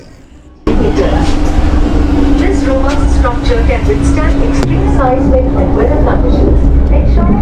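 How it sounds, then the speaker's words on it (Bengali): An onboard public-address announcement on the Srinagar–Katra Vande Bharat train as it approaches the Chenab rail bridge, a voice heard over the steady rumble and hum of the moving carriage. "দেখুন এখানে অ্যানাউন্সমেন্ট হচ্ছে"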